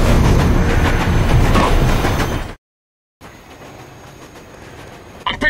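A train in Rogue Trooper Redux rolls along its rails with a loud, dense rumble and rattle that cuts to silence partway through, then returns more quietly with a sharp burst at the end.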